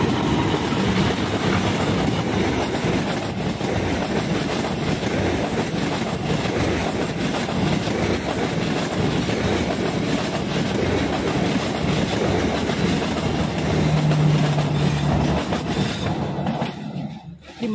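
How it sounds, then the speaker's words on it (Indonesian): The Mutiara Selatan passenger train rumbles past continuously at close range in Indonesia, wheels clattering steadily over the rails, with a brief squeal near the end before it fades. "Kita lihat kereta Mutiara Selatan."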